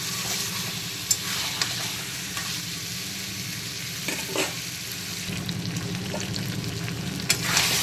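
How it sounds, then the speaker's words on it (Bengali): Potatoes fry hard with spices in a wok over full flame, a steady close sizzle with occasional scraping stir strokes and small clinks throughout. "আবারও দু মিনিট সময় নিয়ে আলুগুলোকে মশলার সঙ্গে কষিয়ে নিলাম"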